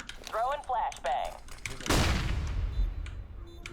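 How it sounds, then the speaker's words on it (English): In a Counter-Strike style shooter match, a flashbang grenade goes off with a sudden loud burst followed by a fading, hissing ring; a voice talks just before it. "Throwing flashbang."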